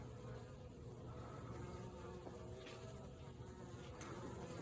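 A steady, low insect buzz of honeybees flying near hives on a cold November day in Rize, continuous and moderately faint against outdoor background noise, with no talking.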